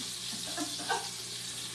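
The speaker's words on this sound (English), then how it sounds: "I can tell fish is frying" Fish frying in a pan gives a steady, fairly quiet sizzle that runs evenly throughout with no voices.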